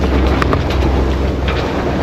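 Strong wind of roughly 17 to 20 knots while sailing toward La Rochelle roars steadily and loudly across the microphone, a dense continuous rush with a few brief gusting flutters and no talk.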